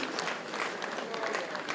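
Audience clapping at a comedy show, a dense steady patter of many hands carrying on evenly for a couple of seconds, with faint crowd murmur and voices mixed underneath.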